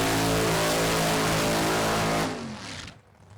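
Big block Chevy funny car engines roar at full power during Friday night drag racing qualifying at State Capitol Raceway, a loud dense blast for two seconds before it cuts off and fades away.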